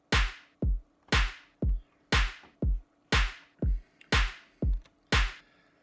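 An electronic drum loop programmed in Ableton Live or Reason with punchy kicks alternating with sharp claps at an even, steady tempo, each hit clean and loud with short decay.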